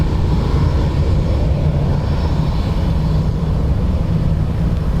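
ATR turboprop airliner at Dublin Airport, a loud steady engine roar with a humming drone holding constant throughout, close by and with no talking.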